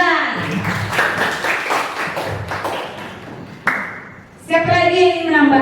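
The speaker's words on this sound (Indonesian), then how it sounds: "siapa yang beri aplaus untuk si Wulan?" Classroom applause for a student, a burst of hand clapping from pupils mixed with children's voices, fairly close and lively, followed by a teacher speaking.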